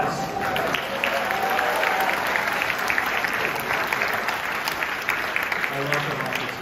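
Applause from a conference audience at a model UN gathering, a steady broadband wash of clapping lasting several seconds with faint voices mixed in.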